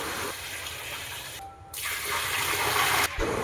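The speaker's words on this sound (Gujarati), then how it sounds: "મોરસ ડૂબે એટલું આપણે પાણી નાખી દેવું અંદર।" Water gushes from a container onto sugar in a large pot, making syrup for a big batch of jalebi. The loud pouring rush briefly dips mid-way, then resumes strongly.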